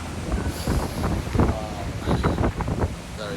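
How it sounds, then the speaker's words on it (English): Strong wind batters the microphone on a ferry in the Bay of Biscay, a gusty roar with rushing sea beneath it and a few muffled thumps. "Very windy."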